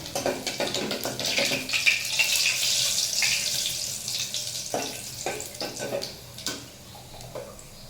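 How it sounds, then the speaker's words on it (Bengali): Chopped ginger and cumin seeds fry in a pan, giving a bright hissing sizzle that swells early and then settles into softer crackles and a few sharp clatters, with no voices. "কুচিয়ে রাখা আদাটা দিয়ে দিলাম আর দিয়ে দিলাম জিরেটা। এখন এটাকে একটু ভাজবো।"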